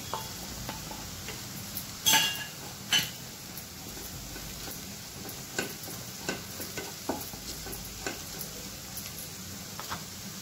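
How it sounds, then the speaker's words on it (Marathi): Onion and dry spices frying in a pan for prawn masala, giving a soft, steady sizzle with scattered stirring clicks and a couple of louder scrapes, fairly quiet throughout. "कांदा पण तांबूस रंगावरती परतून घ्यायचा आहे।"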